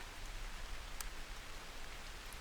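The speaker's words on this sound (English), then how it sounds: "Especially with the rain outside." Steady soft rain falling outside in a video game scene, a faint even hiss of drops with one brief brighter tick, no voices.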